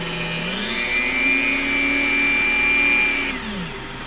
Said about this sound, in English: we'll switch the Dremel tool on